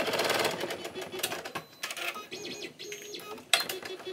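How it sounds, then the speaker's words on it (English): An embroidery machine stitching a door-hanger design in the hoop, with a quick, uneven mechanical patter of needle strokes and short whirring bursts, close and fairly quiet. "So let's load the design to the machine and get stitching."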